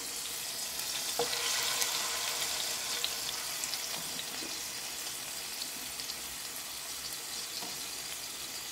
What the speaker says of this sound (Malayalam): ഇതിനെ എടുത്ത് ഞാൻ ഇത് എൻ്റെ എണ്ണയ്ക്കകത്തേക്ക് ഇടാൻ പോവാണ് അതിൽ കിടന്ന് ഇത് ഫ്രൈ ആവണം